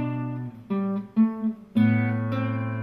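Guitar playing the opening measure of Bach's Minuet in G with low bass notes, a few plucked notes in a steady rhythm, clear and close with ringing sustain and no voice.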